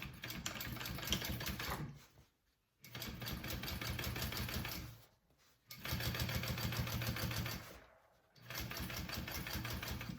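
A sewing machine top-stitches a fabric bag in three long, steady bursts of fast rhythmic whirring, close and loud, separated by short pauses.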